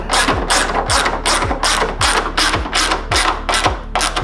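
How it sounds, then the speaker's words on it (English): A ratchet tightens bolts on a Spoon bumper part for a Honda S2000, clicking in a steady run of about eight loud, evenly spaced strokes over a constant low engine hum. "first thing you do, bolt this down"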